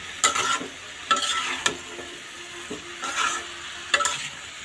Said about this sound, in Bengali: এখন আমি একটু ভালো করে নেড়ে দিব